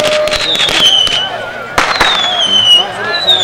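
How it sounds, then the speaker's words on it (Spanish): Fireworks and firecrackers go off above a bullfight crowd, loud crackling bursts with sharp pops and whistling streaks, a dense burst near the middle, under festive crowd noise. "revientan cohetes"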